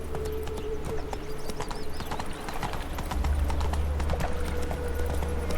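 Roach, the horse in The Witcher 3, gallops in a fast, steady clip-clop of hooves that runs throughout and grows slightly louder and heavier partway through.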